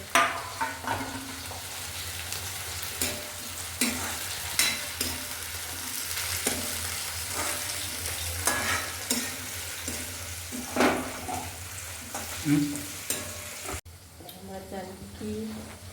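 Tomatoes hitting a hot tempering of garlic and spices in a pan, a loud sizzle and fry with repeated stirring scrapes and utensil knocks, a voice talking over parts of it.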